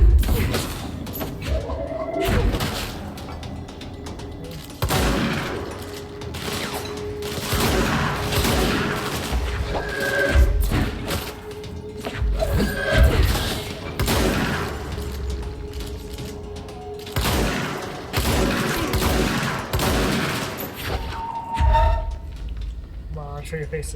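A shotgun fires in the video game Control on PS5 during a combat sequence. Several sharp blasts ring out amid clattering, mechanical game noise, with voices heard throughout.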